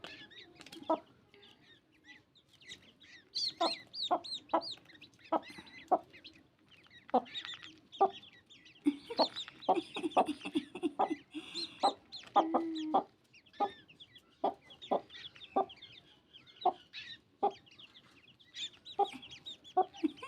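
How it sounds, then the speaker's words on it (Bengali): Young chicken chicks and partridge chicks squabbling, a rapid run of sharp, close chirps and clucking peeps in irregular bursts with short pauses between. "দেখুন মুরগির বাচ্চাটাকে ঝগড়া করে হারিয়ে দিচ্ছে"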